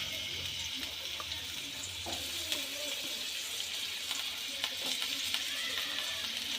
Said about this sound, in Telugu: ఒక ప్యాన్ పెట్టుకొని దాంట్లో కొద్దిగా ఆయిల్ వేసి క్యారెట్ ముక్కలు